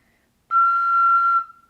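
One steady high F rings out from a double chamber ocarina, a clean, breathy, flute-like tone held just under a second, close and alone.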